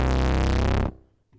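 Bass note run through a fuzz pedal effect in Ableton Live, a thick distorted buzzing tone sustained loudly for under a second before cutting off abruptly.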